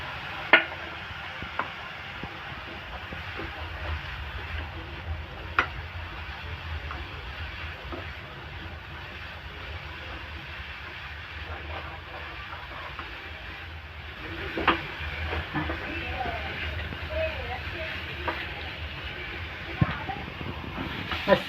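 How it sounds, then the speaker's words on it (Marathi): Grated carrots and bottle gourd roast in a pan for halwa, giving a low, steady sizzle and hiss broken by occasional scraping clicks of stirring, with a voice talking over it. "आता त्यामध्ये आपण गाजर घालूया आणि दोन्ही खरपूस भाजून घेऊया"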